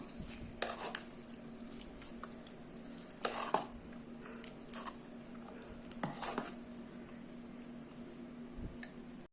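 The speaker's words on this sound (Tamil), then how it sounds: "இப்போ நம்ம இந்த பொங்கல்ல இந்த தாளிப்பை சேர்த்துடலாம். இப்போ நல்லா மிக்ஸ் பண்ணி விட்டுடலாம்" Tempering being mixed into pongal in a pressure cooker, with soft squishy stirring, scattered ticks and clinks of a spoon against the metal pot, a faint steady hum underneath, fairly quiet and close.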